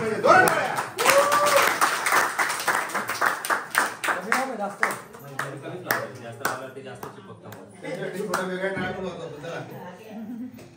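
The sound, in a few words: audience clapping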